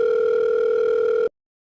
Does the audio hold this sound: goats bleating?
no